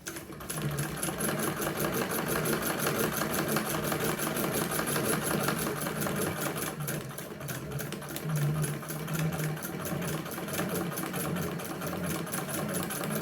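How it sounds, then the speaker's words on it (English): A hand-crank sewing machine runs fast during free motion embroidery, a steady close rapid mechanical clatter of needle strokes continuing throughout with slight variations in pace. "I'm moving very, very slowly with the fabric, but I'm moving quite fast with the hand crank"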